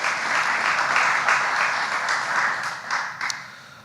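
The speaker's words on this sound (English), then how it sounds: "applause." An audience at a District 3 community meeting gives a speaker a warm round of applause, a steady dense patter of many hands that swells slightly and then tapers off near the end.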